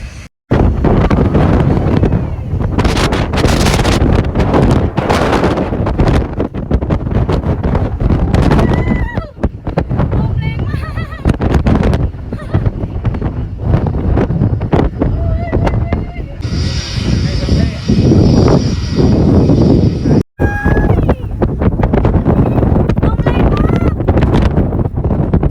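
Strong wind roars continuously across the microphone at the airplane viewing spot on Mai Khao beach in Phuket, loud and buffeting throughout, with one brief dropout.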